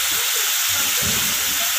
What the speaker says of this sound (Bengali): এরপর আমি পনিরগুলোকে আমি তেলের মধ্যে দিয়ে দিলাম